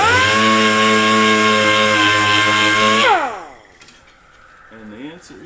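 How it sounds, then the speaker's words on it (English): A dual-action sander fitted with 220 grit paper whines steadily at high speed against rusty metal on a Toyota Land Cruiser bonnet scoop, then spins down with a falling pitch and goes quiet. "Now I got a little bit of 220 grit on the DA"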